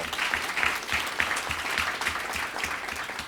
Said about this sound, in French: On va l'applaudir très